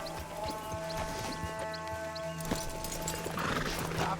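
Horses in Red Dead Redemption 2 clop along steadily with soft hoof steps over a constant ambient hum, a faint snort or whinny mixed in, fairly close and moderate in level.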